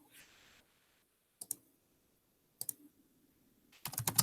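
Close computer keyboard typing comes in short bursts: quick clusters of keystrokes with quiet gaps between, then a denser, louder run of clicks at the end.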